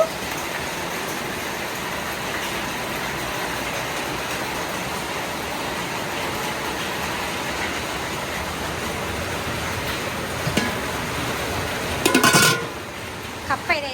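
Steady, dense rain noise fills the whole stretch, a constant wash of heavy downpour with gusty wind roar, and a few sharper bursts near the end.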